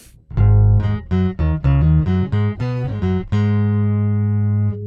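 A bass guitar runs through a pitch shifter pedal set to octave plus dry, playing a run of loud, distinct notes before a long sustained final note rings out.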